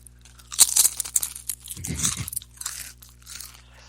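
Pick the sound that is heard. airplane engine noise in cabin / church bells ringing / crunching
crunching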